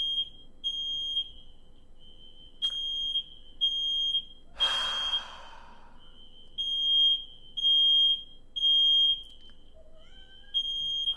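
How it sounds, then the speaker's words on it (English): A smoke alarm goes off indoors, sounding as a loud piercing high beep pulsing in regular bursts, with a cat's meow breaking in midway between the pulses. "The fire alarm just went off."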